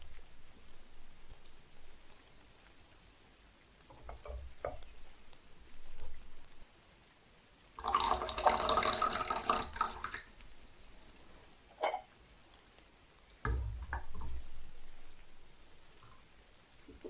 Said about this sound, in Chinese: 然后洗一下茶。